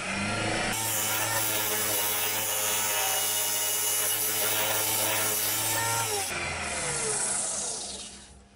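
Lathe gouge shaving a scorched ash bowl, a steady rasping cut with a low motor hum beneath, running continuously, then stopping sharply and trailing into a softer scraping.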